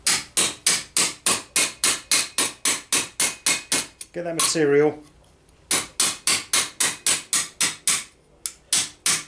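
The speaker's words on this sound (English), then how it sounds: "Just grab that hammer," A hammer strikes a steel gothic gauntlet backplate on a metal stake in fast, loud, evenly spaced ringing blows. Two runs are broken by a brief pause where someone speaks.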